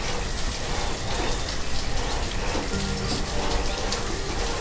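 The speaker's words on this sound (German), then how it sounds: "So, jetzt hat es wieder geregnet" Steady rain falls in the video game Banished as a constant hiss of drops on surfaces, even and unbroken throughout.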